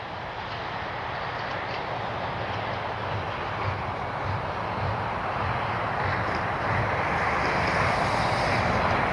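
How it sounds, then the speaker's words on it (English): A radio-controlled model airplane running on a 3S battery flies nearby, making a steady, loud buzzing drone with a thin high whine that lasts throughout, with no voices. "This is the second time I've ever flown this plane."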